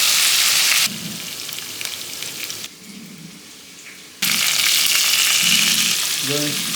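Meat for Texas chili fries submerged in plenty of fat, a dense crackling sizzle that drops quieter for a stretch and then surges back loud.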